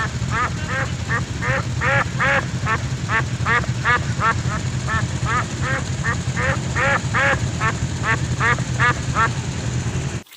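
Steady series of loud duck quacks in quick succession, many birds calling together over a constant low rumble of background noise.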